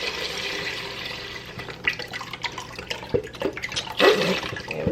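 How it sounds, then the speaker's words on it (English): Chicken broth pours into a soup pot for chicken noodle soup, making a steady splashing, gurgling liquid stream at close range with a few louder splashes near the end. "I am pouring my chicken broth in here."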